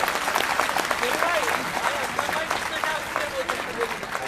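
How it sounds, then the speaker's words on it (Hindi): A crowd at a sit-in protest rally in Indore claps for a speaker, dense applause mixed with scattered voices and shouts, fairly loud and continuous throughout. "एक बार जोरदार तालियां"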